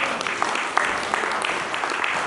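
A church congregation at a sermon breaks into applause acclaiming the Lord, a brief, steady patter of many hands clapping at moderate volume with scattered sharper claps throughout.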